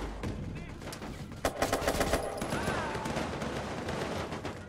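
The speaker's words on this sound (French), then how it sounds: "Qui me tire dessus?" Gunfire in the Watch Dogs 2 video game, dense and continuous throughout, with sharp shots standing out partway through over a busy, noisy game mix.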